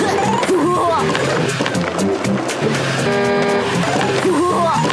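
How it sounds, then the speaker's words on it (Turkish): Several car horn honks sound over a busy video game mix of engine noise and music, with a voice talking over parts of it. "Bak korna çalıyor"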